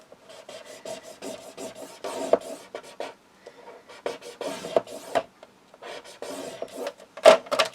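Folded Stamperia craft paper is creased and rubbed down by hand, giving close, soft scraping and rustling strokes in uneven bursts with a few sharper taps and short gaps between them.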